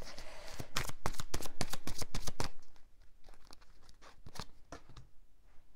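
Tarot cards are shuffled by hand in a quick run of crisp riffling flicks, loud and close at first, then thinning into softer, scattered card slaps with no voices.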